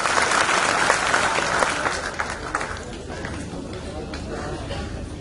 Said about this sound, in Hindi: जोरदार तालियों के साथ स्वागत होना चाहिए हमारे सभी वक्ताओं का।